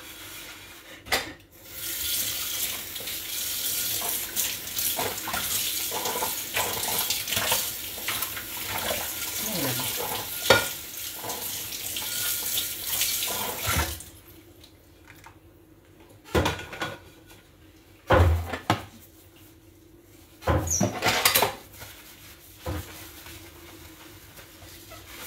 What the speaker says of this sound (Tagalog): At doon naman tayo maghugas ng pinggan.